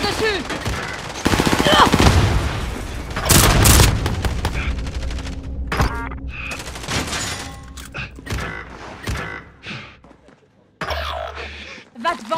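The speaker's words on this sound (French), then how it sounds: "On tire dessus" Gunfire from the battle royale video game Warzone: bursts of automatic shots and sharp single cracks, loud and close in the first seconds, then sparser and fainter shots under game effects, with a voice talking over it.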